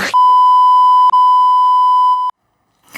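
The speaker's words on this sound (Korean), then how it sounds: "계속 삐소리가 나서 무슨 말이 나오죠?" A censor bleep covers speech in a Korean radio broadcast: a loud, pure electronic tone holds for about two seconds, briefly breaks once, then cuts off cleanly, leaving silence before a faint noise returns.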